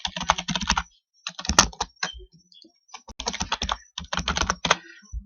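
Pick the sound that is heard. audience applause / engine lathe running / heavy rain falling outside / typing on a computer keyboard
typing on a computer keyboard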